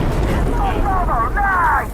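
Explosion in the video game Insurgency Sandstorm, a loud sustained low rumble filling the whole stretch, with a voice sounding over it.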